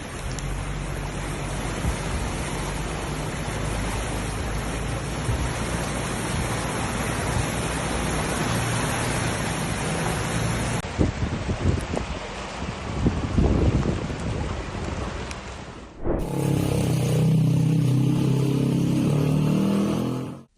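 Heavy floodwater rushing through city streets after torrential rain, with cars carried along by the current; a loud, continuous broadband roar of churning water that shifts character partway through and swells again near the end, with no talking.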